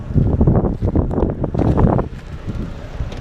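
Strong gusty wind buffets the microphone beside a road, a loud rumbling roar that surges and eases in repeated bursts, with no voices.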